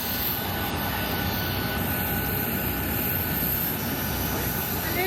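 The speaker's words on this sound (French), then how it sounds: "je voyage dans un avion merdique" A dense, steady engine roar fills the cabin of a small passenger plane, loud and unbroken with a constant low rumble and hiss, no talking heard.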